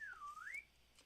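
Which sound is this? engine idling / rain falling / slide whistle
slide whistle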